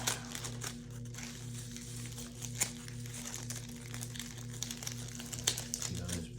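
Crinkly plastic rustles and crackles close up in bursts as packaging for Lionel O scale train trucks is handled and peeled back, with a low steady hum underneath.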